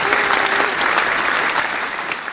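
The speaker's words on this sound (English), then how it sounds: "Usually at this point we have wild clapping, which I will insert here through the magic of technology" Enthusiastic wild applause from a crowd, dense and loud, holding steady across a couple of seconds with a faint tone running beneath and no voices over it.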